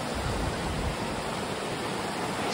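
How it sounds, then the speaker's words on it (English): Continuous rushing water of a brook on a trail in Baxter State Park, Maine, a steady broadband wash like water flowing over rocks, close and unbroken. "Can you hear the sound of the water?"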